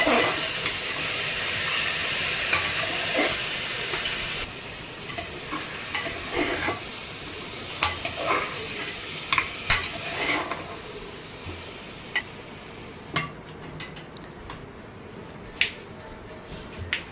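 Mutton is stirred and fried in a pan for mutton curry, giving a hissing sizzle that is louder at first and then eases, with repeated sharp scrapes and clinks of the spoon against the pan. No one speaks.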